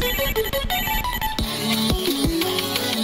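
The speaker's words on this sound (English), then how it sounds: "The phone keeps ringing." A phone rings in the rhythm video game Friday Night Funkin, playing a loud, looping electronic ringtone melody of bright, stepping notes that shifts to a lower repeated phrase partway through, with no voices.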